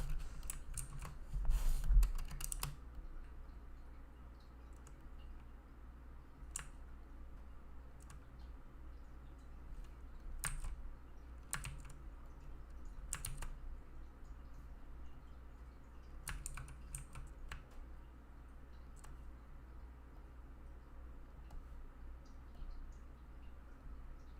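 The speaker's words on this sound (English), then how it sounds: "And using keyboard shortcuts." Sparse computer keyboard key presses for shortcuts, short clusters of clicky taps scattered across a long stretch over a low steady hum, fairly close and moderately quiet, with no speech.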